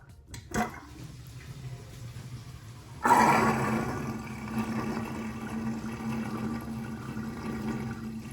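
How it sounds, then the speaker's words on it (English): A faint clunk, then water starts gurgling and rushing steadily down a bathroom sink drain, continuing softly with no talking. "So now I can drain this water."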